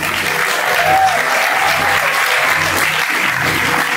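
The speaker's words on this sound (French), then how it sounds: "On peut les applaudir" A theatre audience at a student festival applauds the troupe after the last competing play, a dense, loud, continuous wash of many hands clapping with a faint crowd murmur.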